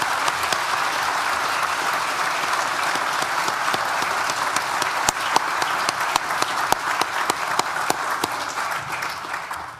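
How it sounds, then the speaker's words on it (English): An audience at a university graduation ceremony breaks into sustained applause, a dense, even wash of many hands clapping for about ten seconds with a few sharper claps standing out near the microphone. "So perhaps join me in a round of applause"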